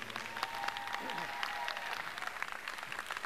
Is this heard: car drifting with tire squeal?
no